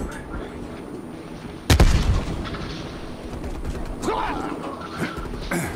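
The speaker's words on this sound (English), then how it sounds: "Sending frag grenade." A single loud frag grenade explosion in Call of Duty: Cold War, a sudden heavy boom with a rumbling tail, amid ongoing gunfire and game noise with voices talking.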